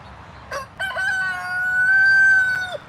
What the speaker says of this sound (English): We have 6 chickens here.